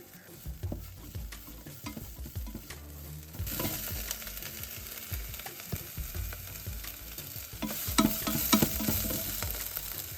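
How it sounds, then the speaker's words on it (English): Chopped onions sauté in oil in a pot on a medium flame for biryani, with a steady close sizzle and frying crackle broken by frequent scraping stirs, growing louder toward the end. "keep sauteing the onion on medium flame until the raw smell disappears"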